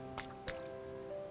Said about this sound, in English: she hurls the stone towards the water.